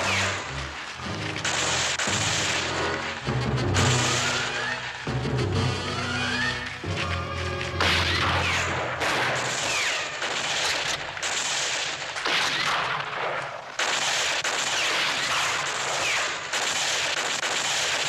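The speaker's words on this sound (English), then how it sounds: "Corporal, that could be gunfire." Gunfire sounds in a western frontier setting as a sustained, crackling stretch of bursts and reports that rolls on unevenly throughout, loud and without speech over it.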